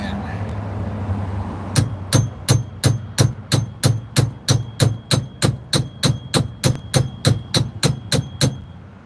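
Hammer blows tap a car part into place, about twenty sharp, evenly spaced metallic strikes in a steady rhythm, loud and close after a brief quiet start.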